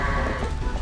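A short, loud bleat from a goat in Zelda: Twilight Princess, sounding close and filling a brief moment without talking.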